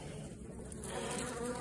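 Guard bees drive a yellow wasp out of a beehive, a dense, steady buzzing of many bees and the wasp close by, holding at one level and swelling slightly toward the end.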